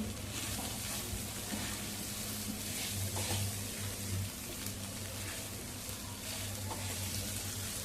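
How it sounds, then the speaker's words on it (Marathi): Boiled, mashed potatoes fry in a spiced oil tempering, giving a soft, constant sizzle and crackle close by, with faint stirring sounds and no voices. "बटाटे चांगले फोडणीवरती परतवून घ्यायचे"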